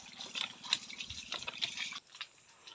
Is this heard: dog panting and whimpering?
no